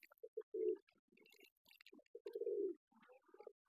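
A pair of Beauty Homer pigeons coo softly up close in a coop, with short throaty bursts and a few longer rolling coos separated by quiet gaps.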